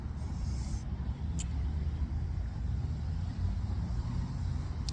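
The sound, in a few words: road traffic passing a roundabout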